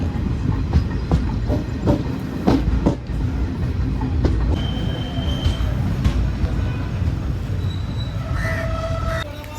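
The Tutari Express passenger train rolls along the Mumbai to Kudal line in monsoon rain, heard from inside as a loud, continuous rumble with rhythmic wheel clatter, sharp clicks and occasional high squeals of wheels on rail.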